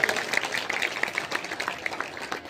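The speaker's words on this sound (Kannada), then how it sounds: "ಜೋರಾದ ಚಪ್ಪಾಳೆ ತರಬೇಕು" An audience at a comedy show applauds in a dense, steady burst of clapping that lasts the whole moment and stays fairly loud from start to finish.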